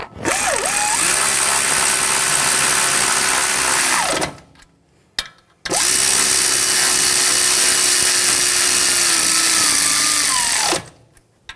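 A power tool drives in caliper bolts on a BMW X5 during front wheel bearing and hub work, producing two long, loud, close whirring runs of about four and five seconds with short quiet gaps.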